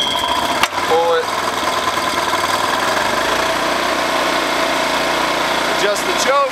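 A small gasoline engine runs steadily after a pull start with the choke on, a close, continuous mechanical drone with a couple of brief clanks and squeaks near the start and end.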